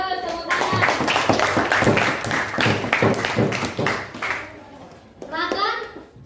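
Children clap their hands in a classroom, making a steady run of sharp, rhythmic claps over several seconds, with a voice speaking near the end.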